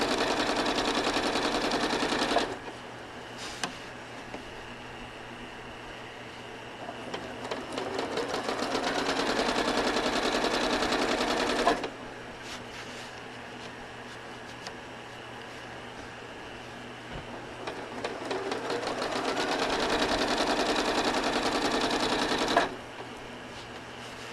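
A home sewing machine quilts stitches along a ruler in steady bursts of rapid motor-driven stitching, loud and close, with short pauses between runs.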